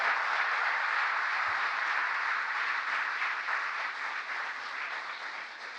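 A large crowd applauds during a presidential speech on the Inflation Reduction Act, a dense, continuous roar of clapping heard from a distance that holds steady and then slowly fades.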